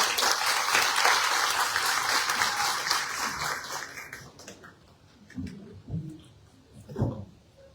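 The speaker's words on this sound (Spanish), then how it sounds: "La recibimos con un fuerte aplauso." Audience applause at a regional archives technical meeting in Callao, a loud sustained burst of clapping that fades out over about four seconds, followed by scattered handling noises and brief murmurs.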